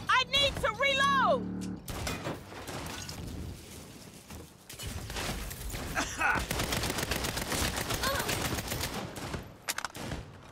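Gunfire in Saints Row on PC, with rapid bursts and a fusillade of shots mixed with mechanical clatter and other game noise, loud and dense, with voices talking in places.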